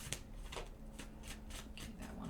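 Tarot cards are shuffled in a steady rhythm of soft papery riffles and slaps, about eight quick strokes close up and quiet, with no talking.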